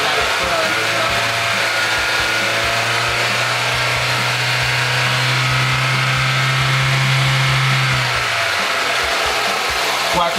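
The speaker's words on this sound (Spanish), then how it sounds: "una aceleración lenta de 700 a 4000 revoluciones" Car engine steadily revving from a 700 rpm idle up to around 4000 rpm during a mass airflow sensor check, a smooth rising drone that climbs and then drops back near the end, loud and close.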